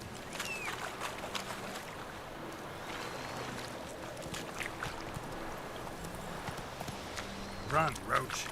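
Roach, the horse in The Witcher 3, galloping with a steady rapid clip-clop of hooves against a wash of wind and ambient game noise, moderately faint, with a speaking voice over it.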